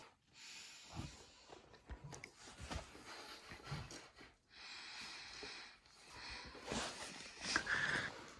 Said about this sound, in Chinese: 你看你妈吹气球。